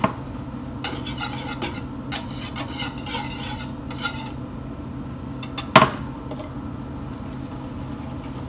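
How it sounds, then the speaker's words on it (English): A whisk stirs a thickening sauce in a pan over a low sizzle, with light repeated scraping strokes and one sharp metallic clank near the end. "And whisk it in."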